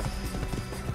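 Rapid, steady clip-clop of a horse's hooves at a trot in the video game Assassin's Creed, close and moderately loud, with a thin electronic backdrop.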